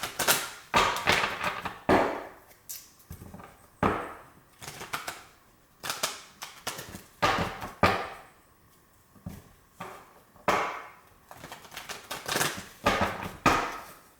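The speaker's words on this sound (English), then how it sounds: "3 more shuffles" A deck of tarot cards shuffled over and over, producing crisp riffling bursts in an uneven rhythm with short pauses between them, close and clear with no talking.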